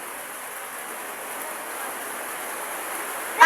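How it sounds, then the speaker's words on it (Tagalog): Steady rain keeps up a dense hiss, with a slight swell toward the end and a brief louder burst right at the close. "lumakas na naman yung ulan"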